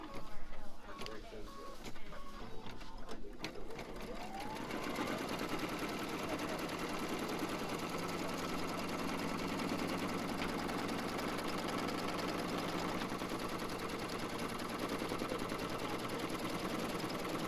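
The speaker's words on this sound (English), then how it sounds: "we're going to put our foot down and we're going to stitch that tack down" A sewing machine stitches a tack-down in a continuous steady whir for most of the stretch after a few opening clicks and knocks, with a busy sewing club room around it.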